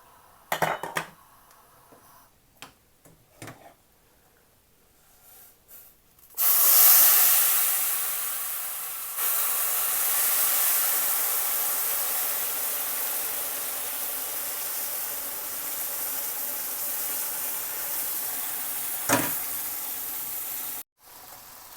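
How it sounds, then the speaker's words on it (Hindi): Sugar syrup poured onto hot ghee-roasted semolina for suji halwa: after a few clanks of utensils, a sudden loud hiss erupts and settles into a long steady steaming rush, with a sharp clatter near the end. "अब हम इसमें जो चाशनी हमने तैयार की है वो डाल देंगे।"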